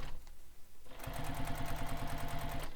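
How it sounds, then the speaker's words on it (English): A sewing machine stitching across a bag starts up after a quiet second, then runs in a fast, steady mechanical rhythm, close and clear. "turn or pivot, and then stitch across to the other side."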